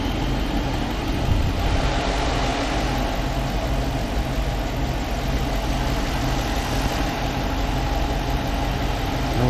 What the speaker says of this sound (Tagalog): Kumandar na yung ating ginawang sa makina.